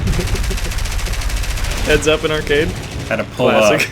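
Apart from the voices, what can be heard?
aircraft machine gun fire in the video game War Thunder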